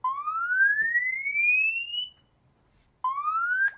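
A loud electronic alarm tone from a Samsung Galaxy S5 emergency alarm sweeps steadily upward in pitch for about two seconds, pauses, then starts another rising sweep, like a phone emergency siren.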